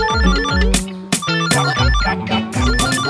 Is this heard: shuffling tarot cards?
no